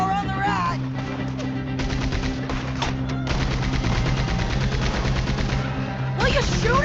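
Rapid automatic gunfire crackles in a Red Dead Redemption 2 train-robbery mission, with dense bursts from several guns over background game music. Characters shout and talk over the shooting.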